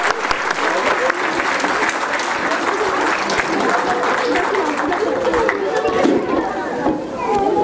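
An audience at a school annual day in Ghaziabad applauds a child, steady clapping mixed with crowd chatter and voices, fairly loud and continuous from start to finish.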